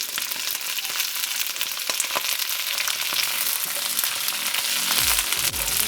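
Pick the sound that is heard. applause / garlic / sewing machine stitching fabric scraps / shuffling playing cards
garlic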